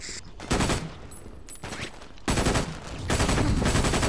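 Loud automatic gunfire from the video game Brink rattles in several sustained bursts separated by short pauses, close and dominant, with no talk over it.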